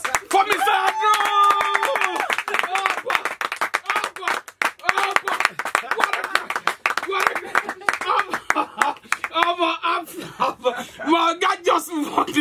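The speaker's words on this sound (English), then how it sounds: "Please, can we clap?" People clapping in a studio, continuous rapid claps running throughout, loud and close, with voices calling out over the clapping.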